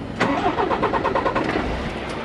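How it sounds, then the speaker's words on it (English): A truck engine cranks over with a rapid chugging rhythm, catches, and settles into a steady idle rumble, close by with no talking. "turn the engine on for this. So turn the engine on."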